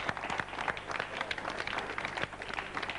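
A TV studio audience applauds a singer on a 1993 Italian local broadcast, a faint, busy patter of clapping throughout.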